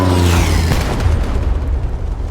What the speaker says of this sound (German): Um uns drumherum knallen die Bomben überall hin